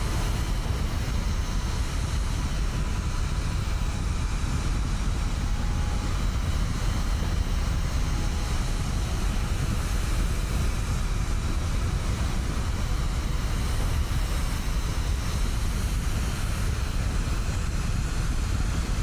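Jet engine with afterburners on a small player-built airplane in Kerbal Space Program 2, a steady, loud broadband roar holding constant throughout with no breaks.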